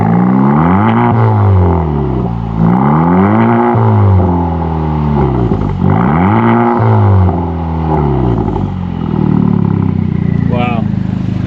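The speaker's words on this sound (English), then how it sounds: "the brand new titanium exhaust, and you guys are gonna hear it for the first time" A Honda Civic Type R with a new titanium exhaust revs hard in repeated rising blasts, each climbing then dropping back, close by and dominating the clip.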